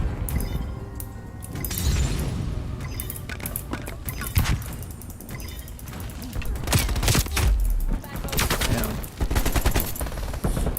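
Video game gunfire from an enemy sniper amid a busy firefight: dense, continuous volleys of close, loud shots and rapid bursts with clinking mechanical noise, running throughout.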